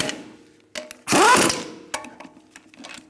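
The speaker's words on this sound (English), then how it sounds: "put your lug nuts on finger tight. And we're gonna snug it up." Lug nuts are snugged onto a 2002-2006 Honda CR-V wheel, with a loud half-second whirring burst of a power tool or ratchet amid a few clicks and clanks, close by.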